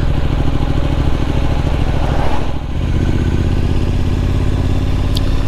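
A Triumph Street Scrambler motorcycle ridden on the road, its engine a loud, steady throbbing drone with wind rush, a brief dip in the note midway before it pulls on again.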